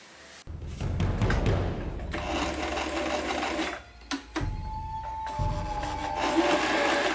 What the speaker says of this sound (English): I'm sewing on my kitchen table